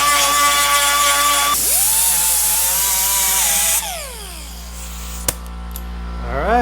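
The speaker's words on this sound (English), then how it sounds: "I'm going to hit it with a burr tool and we'll sand it" A burr tool whines at high pitch while grinding welds on a GTO car quarter panel, loud and close, then spins down and revs again in short bursts.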